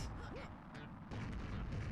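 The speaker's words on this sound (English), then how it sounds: "there's so many cannons going off, it's actually ridiculous" Cannons going off repeatedly in a Bowser level of Super Mario Galaxy, with booming blasts over a constant rumbling game soundtrack.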